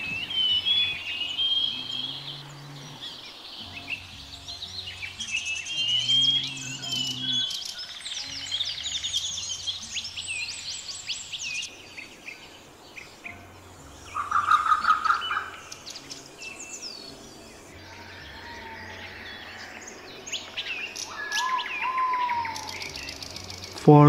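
Birds sing and chirp outdoors in nature, with varied whistles and trills from several birds, some near and some farther off, over a steady insect-like buzz and a few louder calls mid-way.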